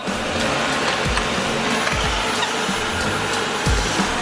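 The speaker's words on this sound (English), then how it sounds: "Smart vacuum." A Shark Ion robot vacuum runs with a loud, steady motor whir and brush noise, close by, broken by a few soft low thumps as it moves around.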